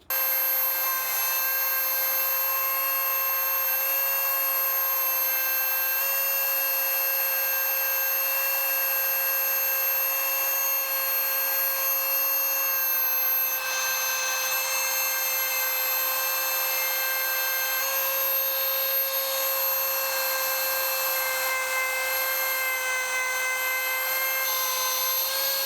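A high-RPM rotary tool spins a polish-saturated bit on a part, giving a steady, piercing whine with strong harmonic tones, close and constant throughout.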